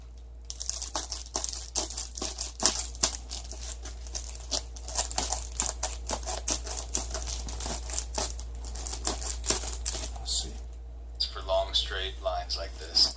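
Scissors cutting in a straight line through material for a DIY pot cozy, a dense run of sharp crisp snips and crinkling close up, steady for most of the stretch, with a softer rustle near the end.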